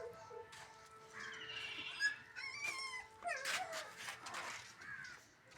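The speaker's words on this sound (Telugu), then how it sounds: "కుక్క పిల్ల చూడండి ఫ్రెండ్స్." A puppy whimpers with faint, high, quavering cries outdoors under a cloudy sky, while crows caw nearby and the background stays quiet.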